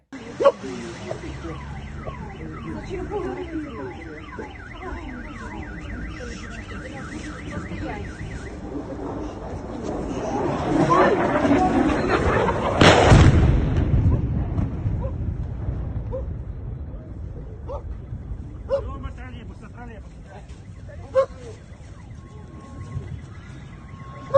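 An air raid siren in Kyiv wails with a rising and falling tone, heard from a distance, swelling and then fading, followed by a loud rumbling burst partway through.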